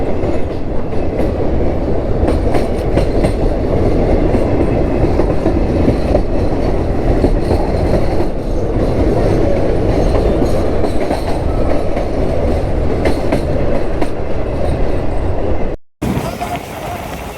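A passenger train runs alongside a road near Siliguri, a loud, steady rumble with clickety-clack of wheels on rails that holds close and continuous throughout, then cuts off abruptly near the end.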